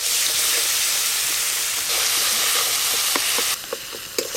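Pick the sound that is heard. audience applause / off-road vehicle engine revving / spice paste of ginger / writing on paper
spice paste of ginger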